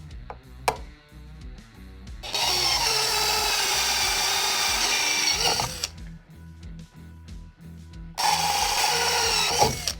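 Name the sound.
drill boring holes for an XLR socket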